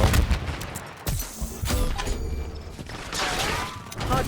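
Gunfire and a thrown grenade exploding in the Black Ops 6 beta video game, a dense crackle of shots and booming blasts over a continuous game soundscape, with faint voice radio chatter.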